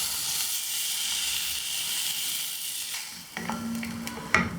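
Ground coriander paste goes into a hot pan and sizzles, a steady hiss of frying that continues throughout, with a stirring scrape and a few utensil clinks near the end and no speech.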